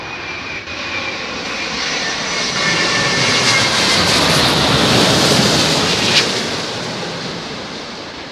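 An airliner's engines roar loudly and continuously at London Heathrow in high winds, the jet noise swelling and then easing over several seconds, mixed with heavy wind buffeting on the microphone, with no one speaking.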